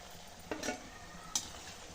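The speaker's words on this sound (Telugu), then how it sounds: "ఇలా గోల్డెన్ బ్రౌన్ కలర్ వచ్చేంత వరకు డీప్ ఫ్రై చేసుకోవాలండి" Vada deep frying in hot oil until golden brown, a soft steady sizzle broken by two brief clinks of a utensil, faint and without talk.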